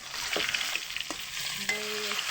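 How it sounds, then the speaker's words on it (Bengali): Fish frying in hot oil as it browns to a red-golden color, a steady close sizzle with a few brief clinks of a spatula, no voices. "মাছগুলো একটা সুন্দর করে লাল করে ভেজে নেব।"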